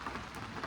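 Steady rain falling outdoors around a working set, a dense continuous hiss of drops on surfaces, fairly quiet and even throughout with no voices.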